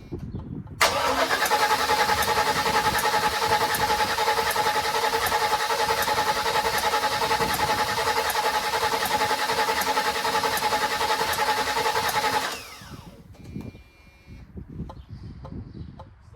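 A 1979 Chevrolet Malibu engine fires for its first start, catching almost at once and running at a loud, steady, close idle for about twelve seconds before cutting off abruptly into quiet shop noise.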